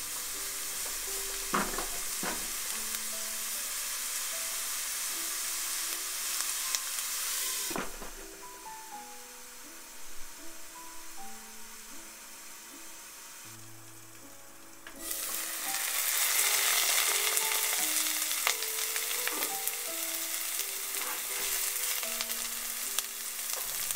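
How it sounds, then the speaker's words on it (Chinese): Bolognese meat sauce cooking in a covered pan, a faint steady sizzling hiss that drops away for a while and then returns stronger, with soft background music throughout. "翻炒均匀后，盖上锅盖焖煮五到七分钟，"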